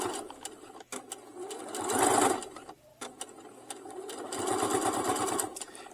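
Sewing machine stitching back and forth over a fabric glasses case, bursts of fast mechanical whirring that speed up and pause, fairly close and moderately quiet, with brief stops between runs.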